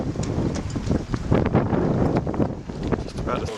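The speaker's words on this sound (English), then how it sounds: "And we had nasty gusts of wind." Strong gusting wind buffets the microphone aboard a sailboat in very choppy seas during a blow of force 7 gusting 8, a steady loud roar with surging bursts throughout.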